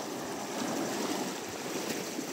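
Sea surf washing onto a sandy beach beside a fishpond, a steady broad rushing wash with no voices.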